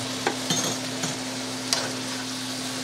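Wild turkey vegetable stir fry sizzling steadily in a pan, with a constant frying hiss and a few sharp clinks of a utensil against the pan scattered through, no talking.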